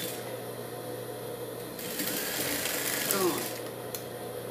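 A sewing machine runs in a steady, close whir for a few seconds, gathering fabric for the sleeve of a dog's dress, its pace rising slightly midway with faint background noise.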